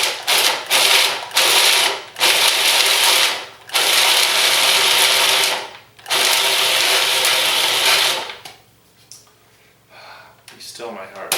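A food processor pulses six good-sized garlic cloves in several loud, whirring bursts separated by brief pauses, and the motor then falls quiet near the end.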